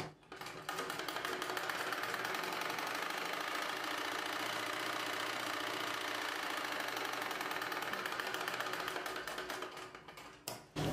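A sewing machine stitches a collar neck blouse, running as a fast, even mechanical whir with a rapid rhythmic needle beat for about ten seconds before stopping.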